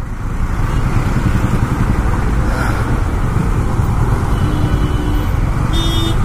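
City road traffic on the way out of Hyderabad toward Yadagirigutta, heard as a loud, steady roar of engines and wind, with brief tonal horn-like notes near the end.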